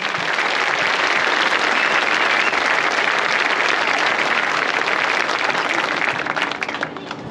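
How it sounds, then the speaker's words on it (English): Applause at a marching band celebration honoring former members rolls on as a dense, loud, continuous wash of clapping from a crowd, fading slightly at the very end. "Another round of applause for our former members."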